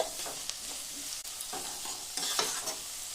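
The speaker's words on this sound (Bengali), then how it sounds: "এখন সমস্ত উপকরণগুলোকে একটু ভালো করে নাড়িয়ে চাড়িয়ে নেব" Onion and tomato being stirred in a pan for spicy semolina, with brief scraping strokes of a spoon over a soft steady sizzle, close and alone without speech.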